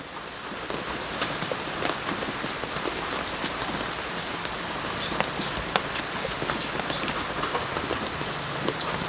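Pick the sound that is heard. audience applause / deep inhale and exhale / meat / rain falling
rain falling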